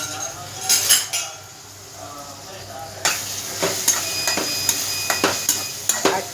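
Onion with asafoetida, turmeric, masala and ginger-garlic frying in a pan, a soft sizzle under repeated clinks and scrapes of a metal spoon stirring against the pan, close by and with no talking.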